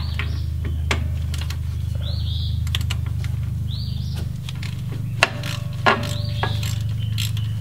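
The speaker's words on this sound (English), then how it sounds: "Now we need to take off these two bolts right here and here that hold the wheel cylinder on." A ratchet wrench clicks in quick bursts as it loosens the 13 mm bolts holding a car's wheel cylinder, sharp close ticks over a low steady hum, with faint bird chirps in the background.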